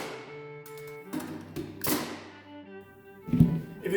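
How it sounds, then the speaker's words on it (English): A nail gun drives nails through a plywood doghouse base into 4x4 posts, heard as a few sharp, separated thunks against a quiet background. "I've got a nail gun, so might as well use it."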